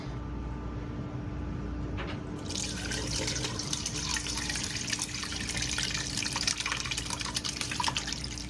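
Rendered beef tallow poured and strained through cheesecloth and a strainer into a bowl, a steady close trickle of liquid that starts after a couple of seconds and continues throughout.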